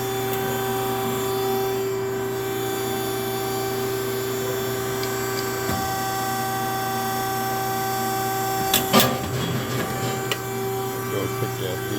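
A Scotchman DO95/140-24M ironworker runs with a loud, steady motor and hydraulic hum, then its shear cuts through metal with a brief sharp crack and clatter near the end, close by and without talk.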